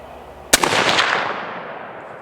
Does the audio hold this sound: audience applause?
no